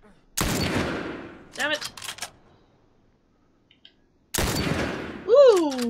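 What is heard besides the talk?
gunshots in video game The Last of Us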